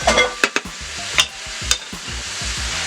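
About 1.5 pounds of beef searing in a hot pan, a loud close sizzle punctuated by several sharp clanks and scrapes, with no talk.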